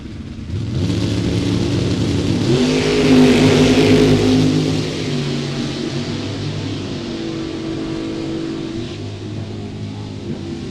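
Drag race cars, including a Mustang, launch at a Super Pro racing event with loud, roaring engines rising in pitch, then a steady, heavy rumble.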